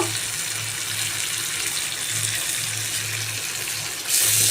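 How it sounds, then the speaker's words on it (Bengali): A little water pours into a pan of cooking jhalmuri masala spices, making a steady close gushing flow that swells louder at the end, with no speech. "ভিতর আমি হালকা একটু পানি দিব যাতে মশলাটা সুন্দরভাবে কষানো হয়"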